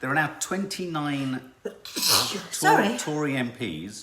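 A sneeze bursts out in the middle of steady talk about a political no-confidence vote. It is one short noisy blast that cuts between the spoken phrases.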